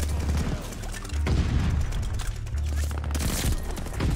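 Rapid bursts of M1928 submachine gun fire in Call of Duty Vanguard crackle continuously, loud and dense, with booming low-end impacts throughout.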